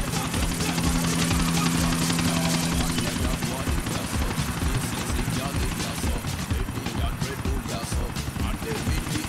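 Helicopter in GTA 4: The Ballad of Gay Tony coming in to land, steady rotor chop thudding loud and continuous with a droning engine whine, no pause throughout.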